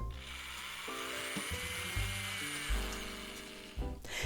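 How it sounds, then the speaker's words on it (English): A power drill boring holes into a small robot's base gives a steady, loud whine that holds its pitch with small shifts and a brief surge near the end, with no one talking. "I could finally mark and drill the holes needed to secure Sparky to the base"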